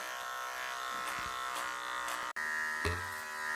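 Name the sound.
hair clipper cutting hair, clipper over comb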